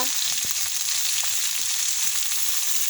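Tomatoes fry in a pan for an egg omelet, giving a steady, bright sizzle up close with occasional soft ticks and pops, at a moderate level and with no talk.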